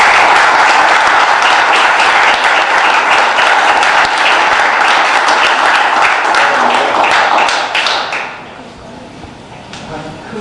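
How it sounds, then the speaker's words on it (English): An audience at a ceremony breaks into loud, sustained applause lasting about eight seconds, then the clapping drops off sharply, leaving scattered claps and voices. "If everyone could please give them a big round of applause."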